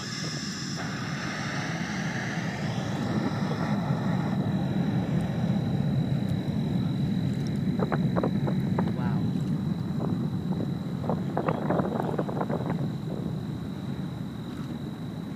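A SpaceX Falcon 9 rocket launching before dawn at 4:00 AM on August 5th, 2014, heard from afar as a steady broad rumbling roar with wind buffeting the microphone, a few crackles, and people talking over it.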